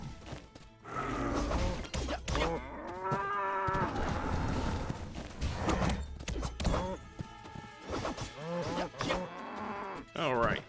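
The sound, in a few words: cows in My Time at Sandrock video game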